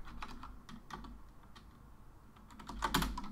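Fingers type code on a computer keyboard in quick, uneven bursts of light clicking keys, fairly close and quiet, ending with a few firmer strokes.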